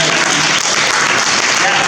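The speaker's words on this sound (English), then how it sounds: "give yourself applause." Dense, loud applause fills the room from an audience at an education summit in Annapolis, sustained without a break for the full two seconds.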